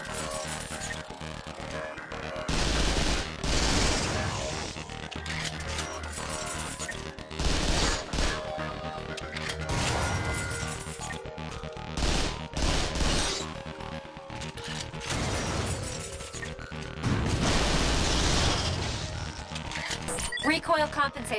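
Sam's modified, non-stock weapon fires in the Vanquish tutorial on PS4, with repeated bursts of loud gunfire and impacts in clusters, alternating with quieter stretches as voices talk over the action.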